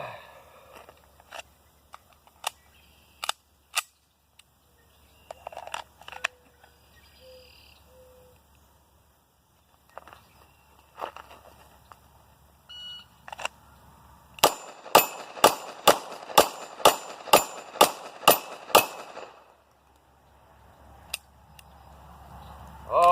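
Pistol shots with Federal aluminum-cased ammunition at steel targets in a competition setup, sharp cracks spaced out early then a fast string of about nine rapid shots, fairly loud over quiet outdoor ambience.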